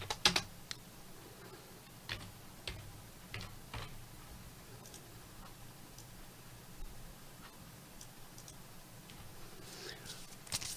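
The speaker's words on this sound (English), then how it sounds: "While James is typing" Sparse typing on a computer keyboard during a live trading broadcast, scattered single key clicks and short bursts, faint and irregular over a low hum, with no talking.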